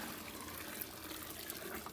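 A steady, soft wash of sparge water pouring over a beer mash while brewing a witbier, continuous and close, with a couple of faint splashes and no voices.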